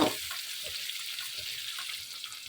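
Onions frying in a pan, part of making bisi bele bath, produce a continuous soft hiss with faint crackles underneath, moderately loud and steady, with no talking.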